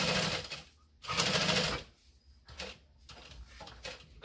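Sewing machine stitching a bucket bag, running in three or four short bursts separated by brief pauses, close and fairly loud with no talking.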